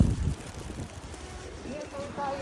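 Blustery wind roars across the microphone in a steady low rumble during a snowfall in Paris, with a heavier gust at the start and faint tones near the end.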